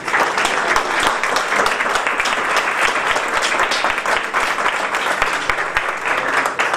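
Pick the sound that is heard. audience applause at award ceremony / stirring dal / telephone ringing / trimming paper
audience applause at award ceremony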